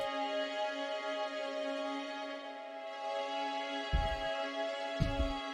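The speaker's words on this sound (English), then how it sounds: "We have reversed it, thrown on some reverb onto it, also put a vinyl effect onto it" A reversed drill chord melody with reverb and a vinyl effect, sustained swelling synth chords with a hazy, washed tail, joined near the end by two short deep booming hits, faint and without talking.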